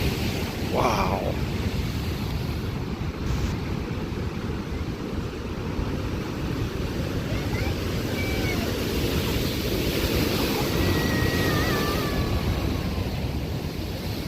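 Rough Atlantic surf surges against the pilings at the end of Jennette's Pier in Nags Head, North Carolina, a steady loud wash of breaking water and splashing with wind buffeting throughout.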